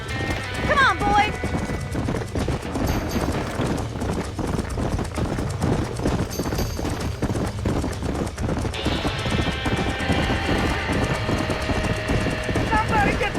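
Horses in a burning barn in the Red Dead Redemption video game: steady hoof clopping and stamping, a sharp whinny near the start, and a constant rushing roar, with shouting voices over the commotion.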